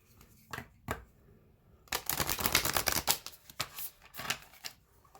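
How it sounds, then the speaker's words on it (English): A deck of oracle cards is shuffled close up, a few light flicks followed by a dense flurry of riffling clicks and papery snaps, then scattered taps, quiet and unaccompanied by talk. "it would help if I can shuffle"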